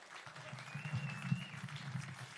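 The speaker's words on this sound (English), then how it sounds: "Let's give them a big round of applause," Faint, distant applause from a concert audience for a brass band at a benefit concert honoring William McGrath, a soft steady patter over a low hum that runs the whole stretch.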